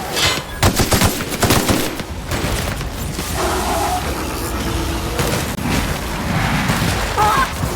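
Gunfire in the video game The Outer Worlds: dense bursts of automatic and single shots with booms, loud and continuous across the clip, with brief game voices mixed in.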